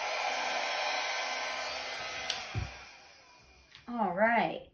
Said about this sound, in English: It's the angle I'm holding this blow dryer that's the issue.